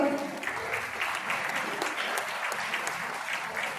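Audience at an award ceremony applauds loudly and continuously, a dense wash of many hands clapping throughout with no voices standing out.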